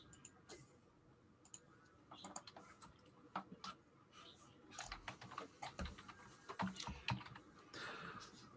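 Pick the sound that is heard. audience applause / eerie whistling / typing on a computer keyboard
typing on a computer keyboard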